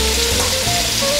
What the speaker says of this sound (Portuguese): colocando todos os nossos bifes, né, para selar.